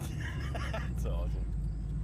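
The V8 turbo Subaru Forester rumbles low and steady after a burnout, a deep engine drone running underneath excited talking from people close by.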